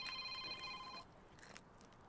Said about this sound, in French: il y a mon téléphone qui sonne là